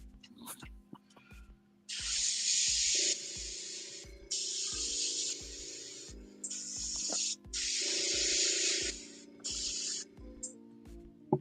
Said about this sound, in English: I'm gonna airbrush it.